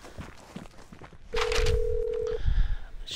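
Telephone ringing in the video game Vigor: a steady electronic ring tone holds for about a second amid background game noise and shuffling, fairly close and clear.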